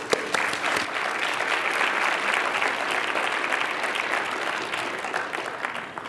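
Conference audience applauds to welcome a speaker, a dense, sustained clapping that holds steady and loud for several seconds before tapering slightly.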